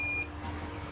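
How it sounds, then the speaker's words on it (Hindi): A multimeter set to continuity gives one short, high electronic beep near the start, then cuts off, leaving a quiet electrical hum in the background during a speaker repair. "मल्टीमीटर के कंटिन्यूटी पॉइंट पर रख लेना है इस पे, जैसे कि इसमें बीप साउंड आए"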